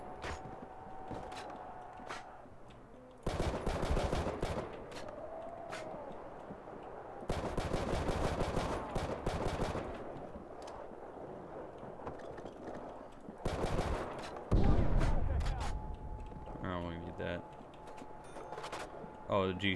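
Commando rifle fire crackles in bursts on a custom zombies map in a World War II shooter, several loud sustained volleys separated by quieter gaps with game tones, and a voice talks in between.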